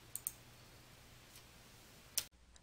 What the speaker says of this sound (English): simply close the search pane by clicking the Close button in the top right corner of the window